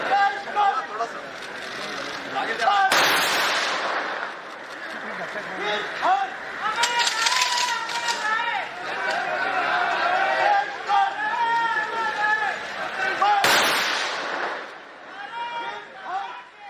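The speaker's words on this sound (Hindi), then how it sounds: "21 तोपों की सलामी दी गई।" Gun salute volleys at Ratan Tata's state funeral in Mumbai: three sharp, booming blasts spaced several seconds apart rise over a steady murmur of crowd chatter.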